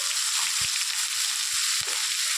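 Onions with cumin frying in a pan make a loud, continuous sizzle with several soft knocks of stirring throughout, and no voices.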